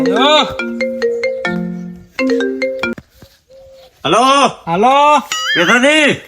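A melodic phone ringtone plays loudly in bursts of bright electronic notes, pausing briefly before repeating, with no one talking over it.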